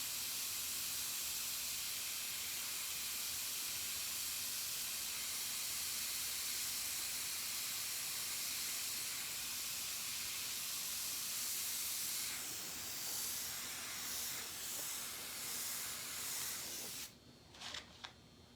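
An airbrush, run from a large 60-gallon air compressor, sprays paint onto a hoodie in a continuous, even hiss that holds steady and close throughout, briefly breaking up near the end.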